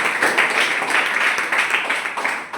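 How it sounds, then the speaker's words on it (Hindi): Children clapping together in a classroom, a brisk, continuous patter of many hands that stays steady and fairly loud throughout. "ताली बजाइए बच्चों।"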